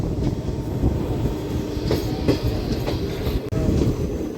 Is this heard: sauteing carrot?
no